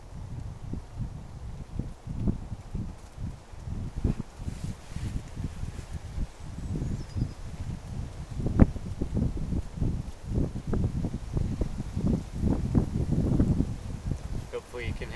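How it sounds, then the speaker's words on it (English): Wind gusts outdoors over wet ground, buffeting the microphone in uneven low rumbles, while a person talks throughout. "hopefully you can hear that it's quite windy"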